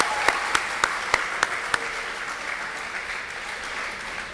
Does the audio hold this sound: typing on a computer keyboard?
no